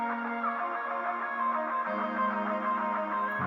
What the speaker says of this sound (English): Echoey lead, maybe a synth too.